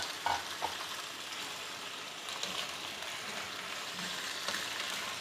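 Thinly sliced potatoes frying in oil in a pot, a continuous moderate sizzle with a few stirring knocks and clatters early on.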